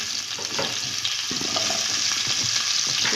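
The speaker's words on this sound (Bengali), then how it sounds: "এবার আমি ফুলকপিটা ভেজে নেব।" Cauliflower fries in oil in a wok with a steady, bright sizzle throughout, broken by soft scraping and stirring clatters from close by, with no one speaking.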